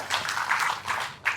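A round of applause from an audience at a public service event: a short, moderately loud patter of many hands clapping that swells and fades over a second or so.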